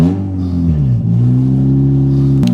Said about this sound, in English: now we're going to start up the Premier Edition and then get to Civic Type R